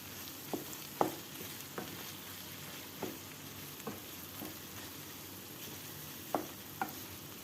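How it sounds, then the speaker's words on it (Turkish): Minced meat fries in a pan with pepper and tomato paste, a faint steady sizzle punctuated by occasional sharp scrapes and taps of a spoon stirring, spaced irregularly over several seconds. "Şimdi birazcık salçayla da kavurayım."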